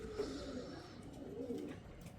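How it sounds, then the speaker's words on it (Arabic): Pigeons in a loft cooing softly, a few low repeated coos at moderate distance over a steady background hum, with no talk. "هذا المطير الفحلة والطيور الواحد يتونس عليهم"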